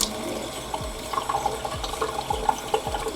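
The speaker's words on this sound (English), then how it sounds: "Maybe if I run some water." Water runs from a household tap into a sink, a steady splashing flow with small irregular bursts, close and moderately loud, with no talking.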